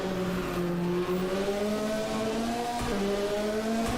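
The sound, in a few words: Ford Escort Cosworth race car engine at hill climb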